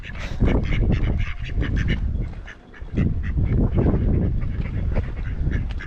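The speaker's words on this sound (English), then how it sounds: "Always loads of ducks at Reedham, aren't they?" A flock of ducks quacking and honking continuously at Reedham on the Norfolk Broads, close and loud, with many overlapping calls and no talking.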